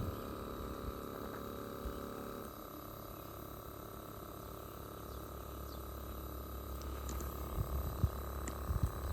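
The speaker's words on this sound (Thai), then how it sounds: "ได้ยินเสียงคอมนะ ครับ คอมทำงานอยู่ ครับ" Mitsubishi Mr.Slim air conditioner running with a fault that makes it cut out and flash a code, its compressor giving a low, steady hum and throb with faint watery background noise, close and continuous.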